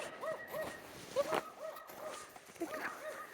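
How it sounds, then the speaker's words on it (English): Several dogs bark at a house at night, repeated muffled woofs at a moderate distance, coming in short uneven bursts. "so this house has a bunch of dogs barking."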